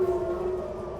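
A civil defense air raid siren in Tehran wails with a steady sustained tone, moderately loud and continuous, heard alone without voices.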